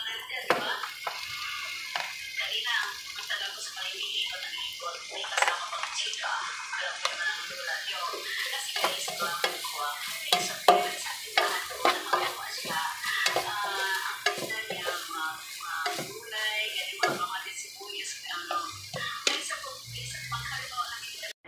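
Pork and liver for batsoy bubbling and simmering in a pot, a steady busy crackle with small pops throughout, close and continuous.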